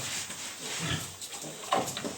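A young piglet gives a few soft, low grunts close by over light background noise.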